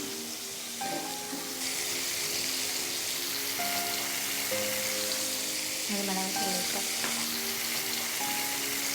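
Masala powder frying in a hot pan, a steady soft sizzle with occasional stirring scrapes, close and continuous at low volume.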